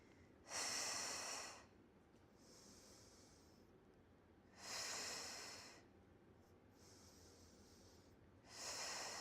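Yoga breathing during a stretching routine: three loud, airy breaths through the nose a few seconds apart, with quieter breathing between them.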